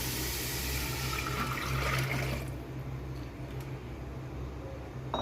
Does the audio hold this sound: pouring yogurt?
yes